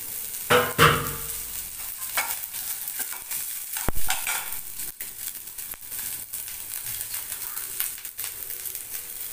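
Sliced onions sauté with tamarind in a pan, giving a continuous sizzle and repeated stirring scrapes. A louder burst of frying rises near the start.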